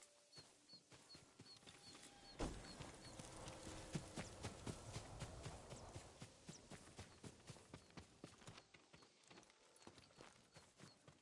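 Horse hooves clip-clop at a steady walking rhythm in the video game Ghost of Tsushima, close and distinct, starting after a short pause and continuing evenly to the end without speech.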